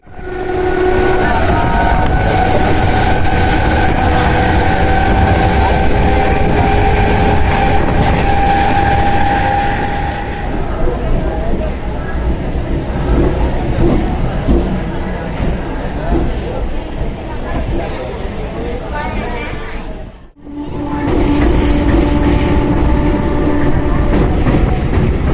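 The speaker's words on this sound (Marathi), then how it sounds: "आता आपण सरळ या लोकलने सरळ पुणे" A local train bound for Pune rumbles steadily through most of the span with clickety-clack rhythm and brief horn-like tones, a short gap near the end, and a person talking over it.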